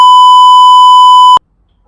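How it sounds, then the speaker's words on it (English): A loud, pure censor bleep tone held steadily for about a second and a half, placed over a line from a lightsaber sound font, cutting off sharply into silence. "I probably will have to bleep this one out"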